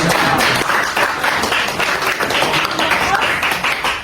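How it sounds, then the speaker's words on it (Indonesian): A class audience applauds a student group after its presentation, giving a steady, fairly loud wash of many hands clapping that lasts throughout with no break. "Tepuk tangan untuk kelompok"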